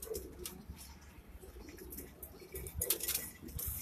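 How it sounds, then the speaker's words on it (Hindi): Ambersira pigeons coo in low, murmuring bursts on a rooftop loft, with faint clinks and shuffling in the background. "अंबरसिरा कबूतर है, अंबरसिरा"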